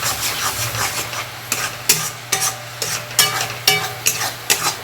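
Masala spice paste for prawn bhuna is stir-fried in a pan, sizzling close up while a spatula scrapes in a steady rhythm of about ten sharp strokes, with no talking.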